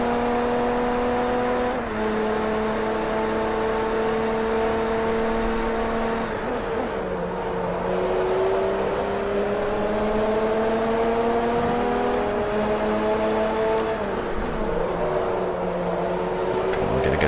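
An LMP racing car engine in Forza Motorsport 3 howls at high revs, its pitch climbing steadily through the gears with brief drops at each shift, loud and sustained with no talking.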